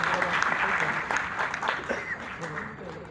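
An audience at the Arts Council in Karachi claps for stage actors, a fairly faint, uneven patter of applause with scattered sharper claps that rises and dips before thinning out.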